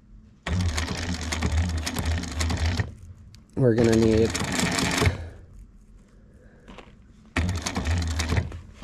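A sewing machine stitching a zipper onto fabric runs in three loud, rapid bursts of needle chatter. Someone speaks briefly between the first two bursts.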